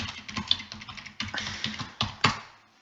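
Quick bursts of typing clatter on a computer keyboard, irregular clusters of key taps separated by short pauses, close and fairly quiet.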